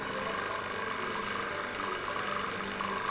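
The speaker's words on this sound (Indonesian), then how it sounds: "Jadi usahakan mesin vakum yang bagus ya guys, yang 2 stek" A two-stage vacuum pump runs during repair of a refrigerated showcase, giving a steady, even mechanical hum and buzz that holds at a constant level with no talk over it.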